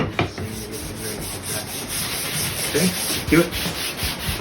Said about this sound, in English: A bunch of sanding.